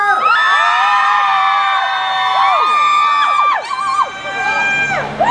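A loud crowd at a concert at a Global House event cheers and whoops continuously, with high shrill shouts and whistles rising over the roar.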